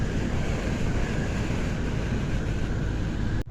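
Loud, steady rushing wind roar inside a BMW E46 coupe at around 80 km/h, with worn door seals letting in a constant hiss and rumble that cuts off abruptly at the end.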